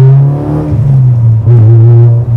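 A Honda Civic SiR with a K-Series engine revs up and down close by, loud and throaty, with a strong low drone that climbs and dips twice without the VTEC change, and no talk.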